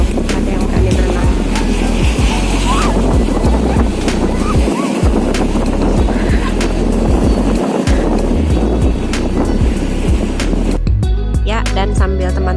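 Surf at Sanur Beach in Bali at high tide rolls in as a loud, constant wash of waves and wind buffeting the microphone, with a voice speaking partway through.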